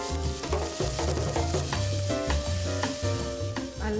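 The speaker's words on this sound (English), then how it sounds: "I'm going to quick fry until the rings turn sort of pale pink" Baby squid rings quick-fry in a hot pan, giving a continuous sizzle underneath steady background music.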